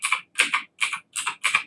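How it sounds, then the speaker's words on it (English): A password is typed on a computer keyboard during a Linux setup, with five or six short clusters of crisp key clicks in a steady rhythm, close and clear with no talking. "Notice that when I type the password, the cursor doesn't move."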